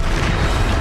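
A Bombarda spell goes off in the video game Hogwarts Legacy with a loud, dense, booming blast that fills the whole brief moment with low rumble and no pause.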